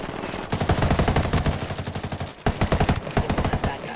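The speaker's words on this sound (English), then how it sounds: "I'm getting shot again." Rapid automatic gunfire in the Ghost Recon Wildlands video game, loud sustained bursts of fast rattling shots with a brief break midway before another burst resumes.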